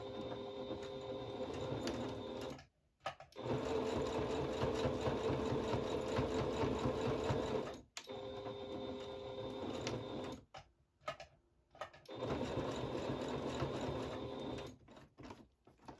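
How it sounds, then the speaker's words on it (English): Sewing machine back stitching over elastic folds on a fabric face mask, running in long steady mechanical bursts with brief pauses between passes, fairly quiet and alone. "Lift the presser foot and turn, and now do the other side exact same way, back stitching over each fold so it's more secure"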